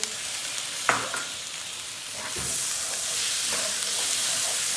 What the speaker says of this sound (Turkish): Domatesle beraber şöyle bir karıştıracağız.